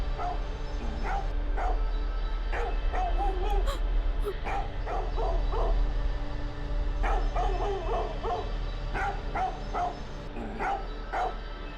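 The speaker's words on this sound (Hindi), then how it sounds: "आज ये टेसी बहुत भौंक रहा है" A dog barks repeatedly in short bursts over a steady low background hum, the barks coming in clusters with brief pauses between.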